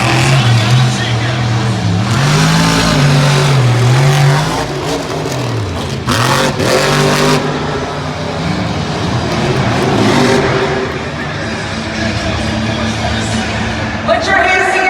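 The Saigon Shaker monster truck engine roars and revs loudly at a Monster Jam freestyle competition in Cleveland, Ohio, pitch rising and falling through repeated throttle bursts, with crowd noise and an announcer's voice around it.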